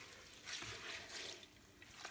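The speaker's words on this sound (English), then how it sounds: "I'm just going to stir it" Star San sanitizer solution is stirred in a home brewing vessel, a soft, steady sloshing and swishing of liquid at moderate distance with gentle surges and no voices.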